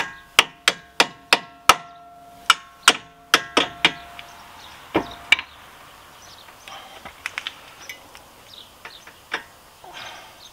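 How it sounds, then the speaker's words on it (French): Sharp metallic taps from a small hammer on a Renault Koleos front suspension during a shock absorber change, a quick series of ringing strikes followed by lighter, scattered knocks and clinks. "On va essayer avec un petit marteau, voir si ça va bien."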